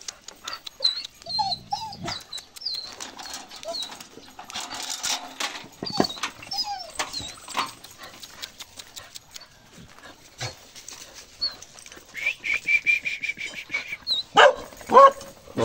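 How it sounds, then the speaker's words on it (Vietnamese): A pair of Vietnamese Mong Coc bobtail dogs bark in short, loud bursts and whimper in high, thin whines, close to the microphone, with a person speaking briefly between the sounds. "Giới thiệu đàn chó, đôi chó mông cộc."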